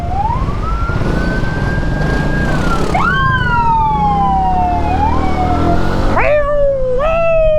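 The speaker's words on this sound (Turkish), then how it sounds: "Hem polis arabası hem motor" A loud wailing police car siren sweeps up and down repeatedly, close by, over steady traffic rumble on a street in Zeytinburnu, Istanbul, with a second siren tone joining near the end as a police motorcycle also passes.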